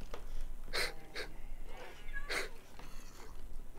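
A cat in the Minecraft video game hisses in several short, breathy bursts, fairly close and of moderate loudness, with quiet gaps between them and no talk.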